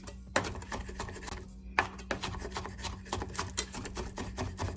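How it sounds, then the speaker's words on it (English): A knife roughly chopping tuna on a cutting board, a series of crisp, uneven close-up chops with a few sharper louder strikes, alone without talk. "I am going to just like give it a good rough chop all the way through after"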